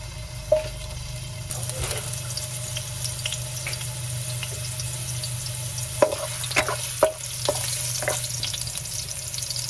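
Ginger sautéing in a pan for a chicken chopsuey, with a steady close sizzle and scattered clicks of a utensil stirring, loudest around the middle and end.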